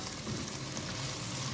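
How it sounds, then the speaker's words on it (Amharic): Onions sauté in a pan for an Ethiopian lentil stew, a steady, close, dense sizzle that holds unbroken throughout. "መጀመሪያ ሽንኩርት አቁላልቻለሁ።"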